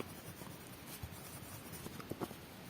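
Someone writes a sentence on a classroom board, giving faint, scratchy strokes and small taps against a soft steady background hiss, with no talk.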